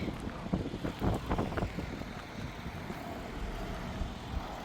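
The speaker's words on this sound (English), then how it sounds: "Ooh, it's windy." Gusty wind buffets the microphone with low rumbling bursts, steady and fairly faint, with distant hum from the I-90 interstate underneath, on packed gravel.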